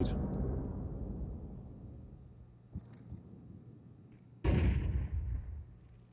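Grenade blasts in a Counter-Strike pro match (Astralis vs B8, PGL Masters Bucharest 2025): two heavy booms a few seconds apart, each followed by a long fading rumble, with no voices.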